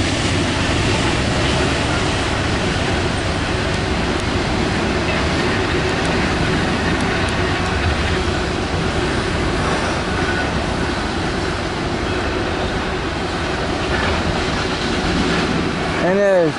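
A northbound Norfolk Southern 24R freight train of empty bare-table cars rolls past close by at speed, a loud continuous roar of wheels and rattling cars with a brief squeal near the end, while people talk faintly.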